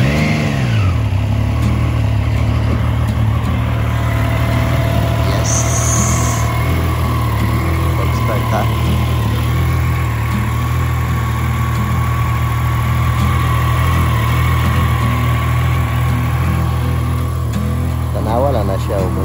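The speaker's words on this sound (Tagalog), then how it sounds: "Kanya karon cold start sa atong motor." A 2025 Triumph Trident 660 motorcycle cold-starts in the early morning, its engine settling into a steady, loud idle with a few blips of revving, close by throughout, with a voice talking now and then.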